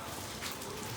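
Rain falls steadily as a dense, even hiss with soft pattering on a surface, continuous and close throughout the brief moment, with no voices.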